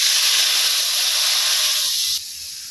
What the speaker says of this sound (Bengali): মশলাটা দিয়ে আলতাছি